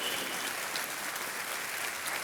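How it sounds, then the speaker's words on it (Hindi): A studio audience on a television quiz show claps for a contestant, a faint but steady wash of applause that lasts a couple of seconds without a break. "यहाँ की जितनी भी जनता आपके लिए तालियां बजा रही है।"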